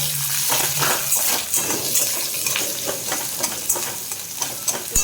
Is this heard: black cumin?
yes